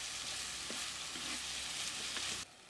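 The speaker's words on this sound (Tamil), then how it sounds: "பூண்டு, கருவேப்பிலை, மணத்தக்காளி வத்தலை சேர்த்து வணக்கிக்கலாம்." Garlic, curry leaves and dried manathakkali berries sauté in hot oil for a tamarind vatha kulambu. A constant, close sizzle is heard alone, with a few faint scrapes of stirring.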